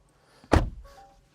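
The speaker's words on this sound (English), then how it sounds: "There are those big, thick, clunky doors." A big, thick door on a ZEEKR 009 electric MPV shuts with a single solid, close thunk and a short muffled decay.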